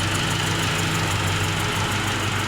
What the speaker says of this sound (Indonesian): Mesinnya halus banget. Khas suara Mazda seperti ini.